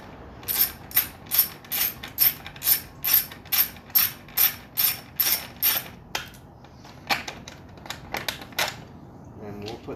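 Small-drive ratchet backing out 10 mm bolts, its pawl clicking in a steady run of about a dozen close, crisp bursts, then looser, irregular clicks as the bolts come free.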